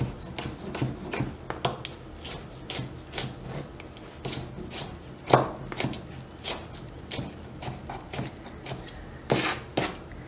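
A knife chops food into small squares on a board, a steady run of sharp, close taps with irregular spacing and a few louder strikes, heard alone without talk.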